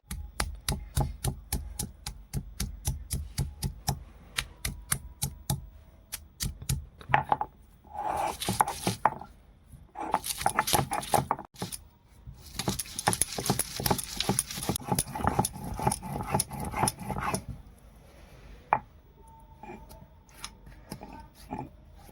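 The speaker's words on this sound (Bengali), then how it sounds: "তিনটে কাঁচা লঙ্কা একটু রসুন আদা আর একটু ধনে পাতা আমি শিলে বেটে নেবো" Green chillies, garlic, ginger and coriander leaves being ground on a traditional stone slab, a steady rhythmic run of close, sharp scraping and knocking strokes that quickens into dense bursts, with a brief pause partway through.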